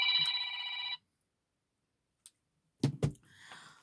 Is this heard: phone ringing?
yes